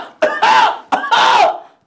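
A man imitates a sick cousin's cough with two harsh, throaty coughs in quick succession, loud and close, with no other sound.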